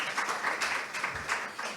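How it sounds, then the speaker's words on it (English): Audience applause in a conference hall for a textile industry director walking on stage, steady clapping from a crowd that pulses in small waves throughout, moderately loud and with no speech over it. "You can applaud."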